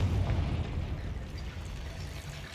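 Confringo fire spell in Hogwarts Legacy bursting in a loud, deep explosion that rumbles and slowly fades.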